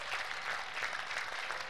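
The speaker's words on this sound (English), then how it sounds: "Clap for Jesus." Congregation at a church miracle service clapping: a dense, fairly faint wash of applause, steady throughout with no voices over it.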